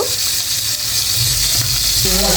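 A shing (horn) fish, already browned on one side and flipped, fries in hot oil with a loud, steady sizzle. A brief clink of utensils sounds near the end.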